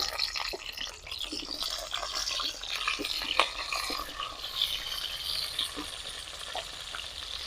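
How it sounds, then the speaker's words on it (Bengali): Pointed gourd (potol) frying in white oil in a wok for a village-style shrimp dish, a close, continuous crackling sizzle with scattered pops and no voices. "পটলগুলোকে আমি ভেজে নেব, তার জন্য সাদা তেল দিয়ে দিচ্ছি কড়াইতে।"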